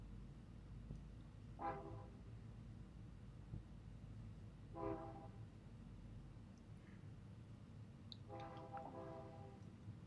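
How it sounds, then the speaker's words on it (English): A train somewhere off in the distance sounds several faint horn toots spaced a few seconds apart over a low steady rumble, with no talk. "You might hear a train."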